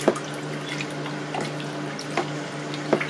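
Water poured and stirred while mixing hair bleach powder, heard as a few soft splashy drips and trickles against a steady low hum, fairly quiet and with no talking.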